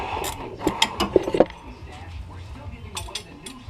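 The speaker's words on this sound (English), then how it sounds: "Tighten down the upper ball joint." Ratchet tightening the upper ball joint on a 1999–2007 GM truck front suspension, a quick burst of sharp metallic clicks and clanks close up, then quieter handling noises afterward.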